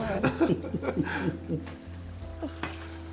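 Food sizzling and stirred in a pan, with faint frying and scraping under steady conversation.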